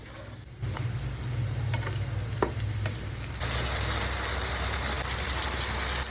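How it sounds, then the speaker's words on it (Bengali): Onions frying in hot oil with whole cumin, cardamom, cinnamon and bay leaf, a steady crackling sizzle that swells louder partway through, with faint stirring clicks. "একটা কড়াইয়ে তেল গরম করে তার ভিতরে গোটা জিরা, এলাচি, দারচিনি এবং তেজপাতা দিয়ে তার ভিতরে পেঁয়াজ দিয়ে কিছুক্ষণ বাদামি করে ভেজে নিচ্ছিলাম"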